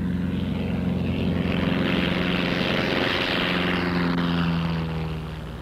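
A propeller airplane drones loudly and close during a crosswind takeoff or landing, the engine roar steady with a shifting pitch before fading slightly at the end.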